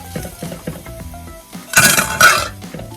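Sausage and shrimp are dumped into a pan for a one-pan Southwest rice bowl, giving a quick clattering, sizzling rush of food hitting the metal amid light clinks of utensils.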